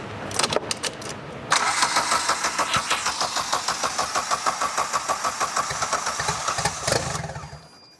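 Toyota Starlet engine fitted with a TD05 high-mount turbo cranks briefly, then catches and runs loudly with a fast, lumpy pulsing idle for several seconds before shutting off abruptly.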